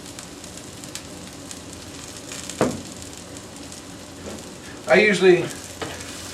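Food sizzles in extra virgin olive oil on a breakfast grill, a low steady frying hiss with a sharp clatter midway and someone speaking briefly near the end.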